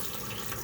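Water runs steadily from a faucet into a sink, a soft continuous hiss at a low level with no talking.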